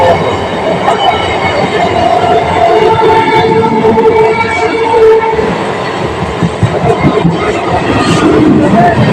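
An empty train sits at a station beside small shops and huts, rumbling and clattering loudly close by, with a horn and the murmur of a crowd in the background.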